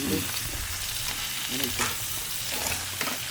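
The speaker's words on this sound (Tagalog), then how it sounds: "Yan na, nilagay na natin yung sibuyas." Onion frying in oil in a pan, a continuous close sizzle with occasional stirring scrapes running throughout, loud and steady with no voices.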